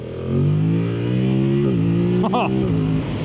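A 2025 Yamaha MT-07 Y-AMT motorcycle accelerates hard, its engine note climbing steadily in pitch, dipping briefly at a gear change, then rising again loud and close.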